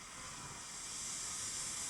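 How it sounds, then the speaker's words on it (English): A steam locomotive releases a continuous, even hiss of steam, broad and steady for a couple of seconds with nothing else heard. "And a bit of steam."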